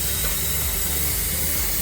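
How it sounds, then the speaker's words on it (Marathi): A pressure cooker whistle vents steam in a steady, loud hiss that fills the whole stretch without a break. "तर एकीकडे आपल्या कुकरच्या शिट्या होतात"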